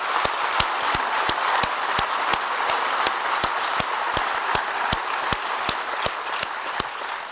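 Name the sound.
audience applause at theatre opening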